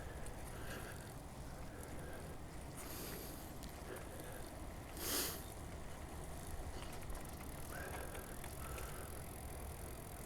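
A bicycle rides along a river before dawn, heard as a faint, continuous rolling rush with light ratcheting clicks and rattles, plus one brief louder swell midway.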